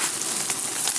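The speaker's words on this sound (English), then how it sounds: "Brown in the butter." Butter browning in a hot pan gives a steady, close sizzle with soft crackles, heard alone for one second.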